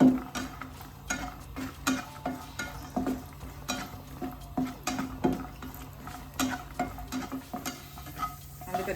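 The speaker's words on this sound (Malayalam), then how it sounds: "അതിനകത്ത് ഈ അണ്ടിപ്പരിപ്പും കൂടെ ഒന്ന് മൂപ്പിച്ചെടുക്കാം." Cashew nuts fry in hot oil in a pan while a spoon stirs them, giving a steady low sizzle broken by a rhythmic series of close scraping clicks and knocks, with no one speaking.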